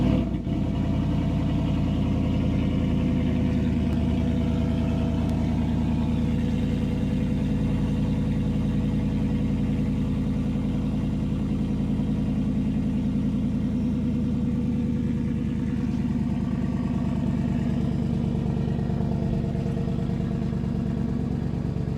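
A Ford F-150 with a swapped Raptor engine and cut exhaust idles after a semi-cold start, a loud, deep, steady rumble holding evenly for over twenty seconds with no voices.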